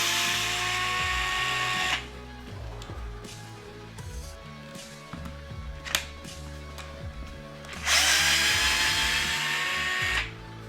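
An electric driver whirs in two short bursts at the start and near the end while drive shaft screws come out of an Axial SCX10 III Coyote RC car transmission, with small clicks and taps in the quieter middle.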